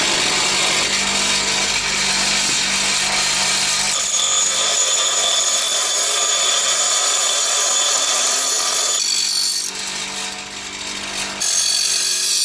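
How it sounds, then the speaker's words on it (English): A power tool grinds and shapes a knife blade made from a farrier's rasp, a loud continuous abrasive whine that shifts in pitch as the pressure changes, briefly easing near the end before resuming. "I'm just shaping the blade a little bit in the handle, in here, taking the rough bits out."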